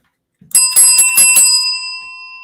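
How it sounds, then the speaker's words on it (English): Hand bell rung in a quick burst of about four bright metallic strikes, then a clear ringing tone that fades out, heard alone and close by. "I need to go get my bell."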